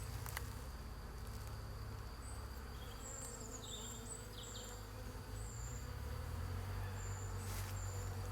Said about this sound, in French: Je vais montrer les abeilles comme elles sont là.